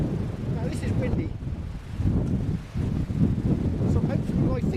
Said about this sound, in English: Now this is windy.